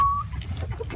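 An old Delaware rooster among a flock of Delaware chickens gives a brief, close clucking call over low background rumble.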